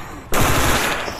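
Loud, rapid automatic gunfire from the video game Stalker bursts in suddenly and rattles on continuously for about a second.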